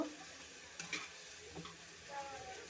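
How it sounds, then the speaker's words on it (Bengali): Radish stalks, cabbage stalks, radish and beans frying in a pan, a faint low sizzle with light scraping stirs and a couple of soft clicks, quiet and close. "ভাজা ভাজা করে নিচ্ছি"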